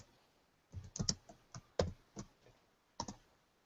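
An SSH command is typed on a computer keyboard in a close, quiet room, a short uneven run of crisp key clicks with small pauses between strokes.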